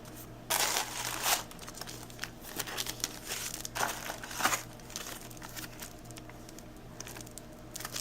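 Cellophane cello bags crinkling as they are handled for a paper pumpkin pinwheel craft, soft crackly rustles in a few bursts over a faint steady hum.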